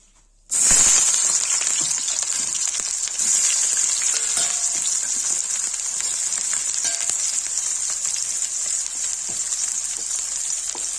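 Onions hit hot ghee with a sudden loud sizzle that continues steadily, crackling close up with occasional stirring.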